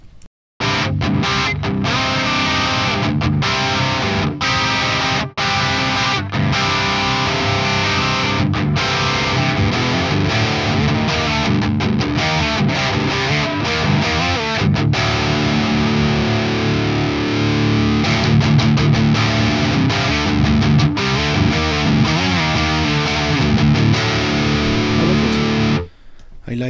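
Electric guitar through the crunch distortion channel of the Raven Volcanic amp plugin, playing a sustained, thick and gritty riff for about 26 seconds at steady loudness, alone with no talking.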